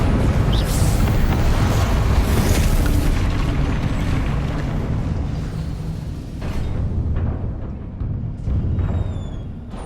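Confringo blasting spells in Hogwarts Legacy set off deep, rumbling explosions, one heavy boom rolling into the next, loud and close before easing into a lower rumble with a few later bursts.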